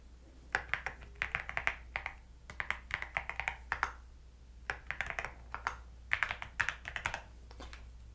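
Rapid typing on a computer keyboard in a quiet ASMR apartment leasing role play, with close, crisp key taps in short bursts and brief pauses between runs, no talking.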